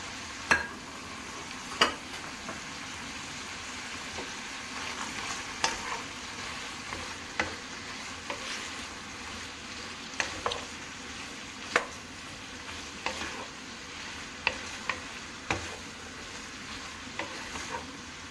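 Onions and peppers sizzling steadily in butter in a hot pan, with occasional sharp clicks of a utensil stirring against the metal, no voices.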